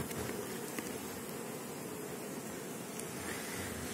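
Carniolan honey bees hum steadily at an open hive during inspection, a dense continuous buzz with a constant level throughout and no talk.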